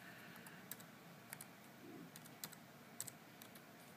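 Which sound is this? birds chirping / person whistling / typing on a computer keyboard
typing on a computer keyboard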